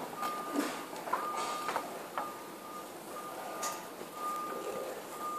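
A vehicle's reversing alarm beeps faintly in the distance, a steady series of evenly spaced tones heard through quiet room noise.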